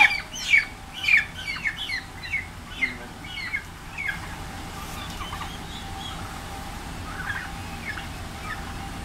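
Several turkeys gobble and squawk in a quick series of loud calls at first, then trailing off to fainter scattered calls over a low steady background hum.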